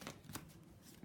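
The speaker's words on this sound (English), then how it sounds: "I'm still shuffling cards here" Tarot cards being shuffled by hand, soft papery riffles in a few quick bursts, quiet and close with no talking.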